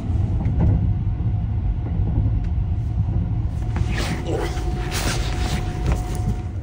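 Overnight sleeper train in Japan rumbling steadily along the rails, a continuous loud low roar with faint rattles and clunks throughout.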